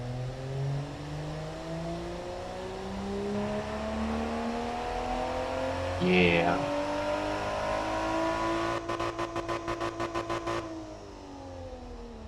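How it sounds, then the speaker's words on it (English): A six-cylinder car engine in the game Automation revs up steadily with rising pitch, then holds high with a rapid stuttering limiter pulse before dropping off; a brief voice is heard midway. "Let's hear the engine one more time. I just love the 6-cylinder sound."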